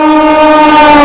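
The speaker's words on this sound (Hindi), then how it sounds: "कानपुर शताब्दी का पहला ओवरटेक, पटना अमृत भारत को ओवरटेक करते हुए कानपुर शताब्दी।" Kanpur-New Delhi Shatabdi Express overtaking the Patna Amrit Bharat Express on Indian rails, a loud, steady, tonal train horn blaring close by for about a second with no voices.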